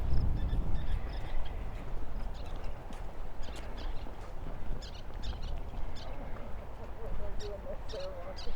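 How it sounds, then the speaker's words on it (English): Western kingbirds calling in a military cemetery at Little Bighorn Battlefield in Montana, with scattered sharp chirps and chatter over steady outdoor background noise, at moderate distance. "You can hear these birds being feisty. They're western kingbirds, I believe."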